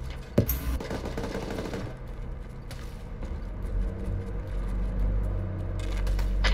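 Gunfire in Arma 3 during a night Gulf War battle with US Marines: one sharp, loud shot near the start, then scattered distant shots over a constant low rumble.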